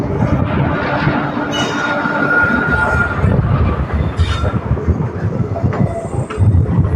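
The Hyderabad Express rolls into Gudur station with a steady loud rumble of wheels and carriages, faint squeals and clatter rising near the end, and no voices.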